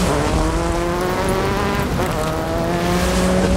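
A race car engine on a rally run toward Dakar, pushed hard, gives a loud, steady, close drone whose pitch climbs and shifts throughout, with no talking.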